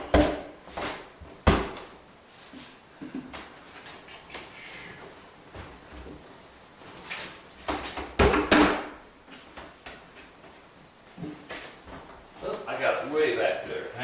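A door is shoved and knocked into place during installation, giving a string of loud thumps, bumps and scraping knocks spread irregularly through the clip, close by, with a person talking in between.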